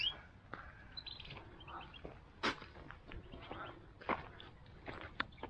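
Small birds in a little aviary at the Europa Rosarium rose garden in Sangerhausen give faint, scattered chirps and calls, with occasional sharper notes over quiet outdoor background.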